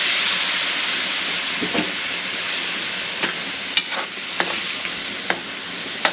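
Broth poured into a hot pot of sizzling meat gives a steady, loud hiss of frying and steam, with a few sharp clicks and taps scattered through it and no talking.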